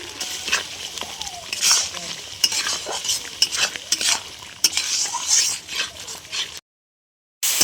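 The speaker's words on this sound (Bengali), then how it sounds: "মশলাটা ভালো করে কষিয়ে নেব" Spice masala of coriander powder, red chilli powder, salt and turmeric fries and is stirred in a pan for a chicken and kohlrabi curry, with steady sizzling, repeated spoon scrapes and clinks close up, ending abruptly.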